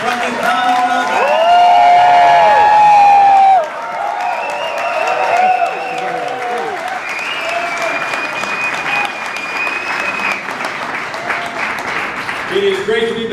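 A rally crowd in Bethel Park, Pennsylvania applauds and cheers loudly with whoops, then the clapping continues under a speaker addressing the crowd.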